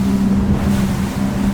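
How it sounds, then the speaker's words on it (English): A Hydrolift X-32S speedboat powers through waves, with a loud, steady engine drone, rushing water and wind noise filling the whole stretch without pause. "The boat, when you're going through these waves, feels incredibly solid."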